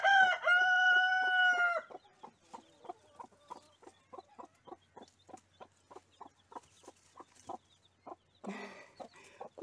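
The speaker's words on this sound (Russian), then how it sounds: "Курица с цыплятами перебежали на ту сторону." A rooster crows loudly at the start, then a hen with chicks clucks in a steady run of short rhythmic clucks, followed by a brief burst of louder squawking.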